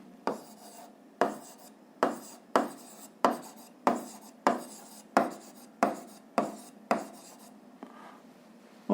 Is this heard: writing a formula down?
yes